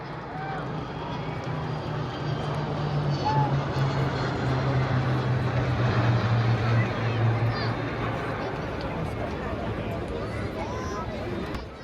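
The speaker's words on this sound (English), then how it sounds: "Formation leader today is C-130J aircraft flown by Group Captain Ankit Raj Singh" A formation of Indian military aircraft led by a C-130J transport roars past over the Republic Day parade, a loud, sustained engine drone heard from the ground with crowd noise beneath.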